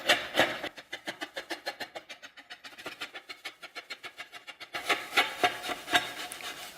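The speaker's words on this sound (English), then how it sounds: "Take the scraper, go to the edge of the graphic, and slide it along the edge." A scraper slides along the edge of a graphic on a mold, peeling it off in a rapid, rhythmic series of close rasping strokes that grow louder toward the end, no talk.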